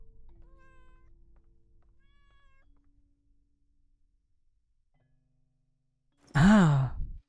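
A single drawn-out, wavering cat meow in the horror game Layers of Fear, loud and close, following several seconds of faint eerie tones and near silence.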